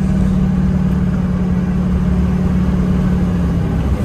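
A car engine runs loud and steady at a mid pitch, holding an even drone as it goes through the gears without distinct rev changes; no voices.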